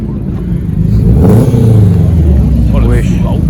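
A Subaru car engine revs and accelerates nearby, a loud rising rumble under excited talk from people close by.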